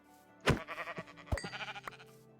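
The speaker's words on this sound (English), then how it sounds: "I see sheeps." Sheep in a modded Minecraft game bleat twice in quick succession, the wavering game-sound cries clear and close with no talk over them.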